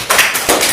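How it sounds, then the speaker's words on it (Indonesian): A short burst of a few sharp hand claps from a small classroom audience, loud and close with no talk over it. "Tepuk tangan dong"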